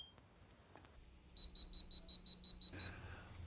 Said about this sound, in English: anytime it contacts moisture, we basically get a beeping and we get a red light that blinks in there.